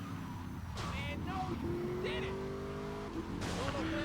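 Car driving in GTA Vice City, a continuous engine drone with brief tire squeals and skids, close and steady under someone talking.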